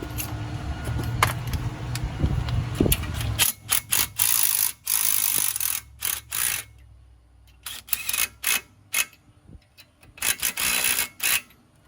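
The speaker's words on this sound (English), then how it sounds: "we're going to put the rotor back on with a couple bolts just to snug it down" Bolts are run in with a ratchet to snug the front brake rotor on a 2000 Jeep Cherokee Classic, a low hum giving way to bursts of sharp, close ratchet clicks and metallic ticks in quick, uneven runs.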